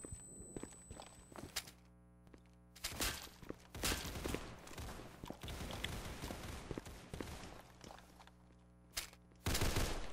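Gunfire in the Counter Blox video game, with scattered shots and bursts mixed with footsteps and other game noise, fairly loud and close.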